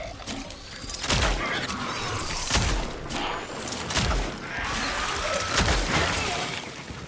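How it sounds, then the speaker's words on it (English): Gunfire from a machine gun in the video game Cronos: The New Dawn on PS5 Pro, loud repeated bursts with heavy thumping impacts and crashing debris, filling the scene continuously. "Well, there goes the machine gun."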